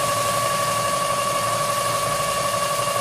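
Engine idling steadily at around 700 RPM on a test setup with 45 degrees of ignition advance, a continuous even hum with tonal components and no talking.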